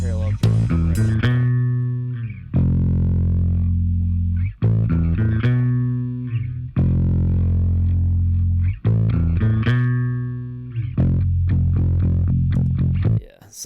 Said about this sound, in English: I just record through that pedal, and you can hear a lot of distortion